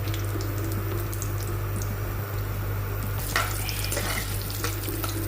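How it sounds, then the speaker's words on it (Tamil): Cashews and raisins fry golden in a pan for a sweet bread halwa, a steady close sizzle with soft stirring scrapes, the crackle rising briefly toward the end, with no talking. "முந்திரி, திராட்சை அப்படி பொன்னிறமாக வறுபடணும்."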